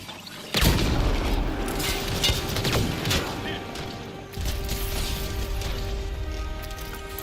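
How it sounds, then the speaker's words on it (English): In the video game Mass Effect Andromeda, a grenade goes off with a sudden heavy boom, followed by rumbling combat noise and further blasts in a sustained loud battle mix. "Watch the grenade!"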